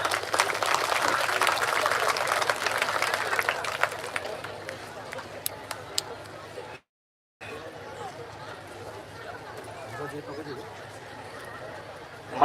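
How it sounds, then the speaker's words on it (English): A crowd applauds at a school annual prize day in Cuttack, with dense clapping at first that thins and fades, and voices and room murmur carrying on afterward. "I want all of you to acknowledge this with a big round of applause for both the schools."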